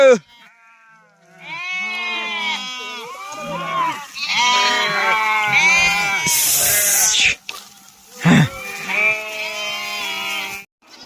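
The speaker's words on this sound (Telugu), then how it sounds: "మన గొర్రెలు అయితే మంచిగా సొప్పదిన అయితే నీళ్ళు తాగుతున్నాయి" A flock of sheep bleats loudly and almost continuously, many overlapping calls up close, with a brief harsh noise partway through.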